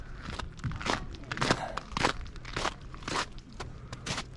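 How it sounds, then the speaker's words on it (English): Boots crunch on glacier ice in the Aosta Valley, Italy, a steady series of close, gritty footsteps about every half second, each a sharp crunch. "Oh, the lovely crunch of glacier ice under your boots."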